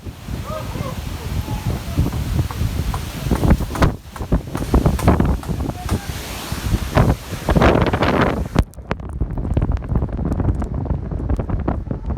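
Strong wind buffets the microphone in heavy, continuous gusts, with voices talking underneath before it suddenly drops away near the end.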